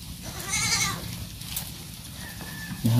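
Goats sharing a feeding basin on a farm, bleating close by a couple of times with a sharp knock or clatter near the end; no speech.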